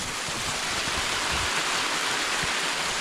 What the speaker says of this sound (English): Little creek flows through there, but even when we get some big rains, this could really be flowing.